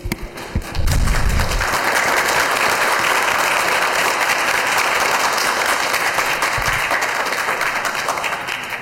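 Audience at a public hearing bursts into loud sustained applause, a thick roar of many hands clapping that rises sharply within the first second and holds at full strength until it tapers slightly at the end.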